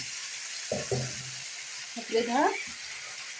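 Shawarma fries in hot oil with a constant, fairly close sizzling hiss, while a person talks briefly over it twice.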